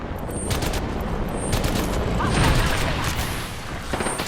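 Rapid bursts of gunfire in the video game Apex Legends, dense overlapping shots and mechanical clatter filling the clip, with a voice briefly talking over the action.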